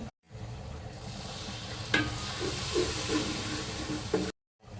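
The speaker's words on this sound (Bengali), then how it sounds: "সয়া সস দিয়ে দিচ্ছি" Soy sauce hitting chicken biryani masala frying in a pan brings a steady hiss and sizzle, with a sharp splash near the middle and a few soft stirring scrapes, all without talk.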